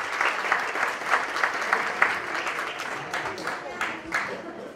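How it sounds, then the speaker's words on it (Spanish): Crowd clapping for a volunteer at a living statues contest show and prize-giving, a dense ovation that swells and dips in waves with a few sharper claps standing out, and a voice speaking faintly underneath. "fuerte el aplauso para Hugo"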